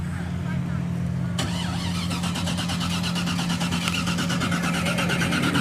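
A turbocharged LS-swapped Fox body car cranks over and over as someone tries to start it, the starter chattering in a fast, even rhythm close by while a person talks over it.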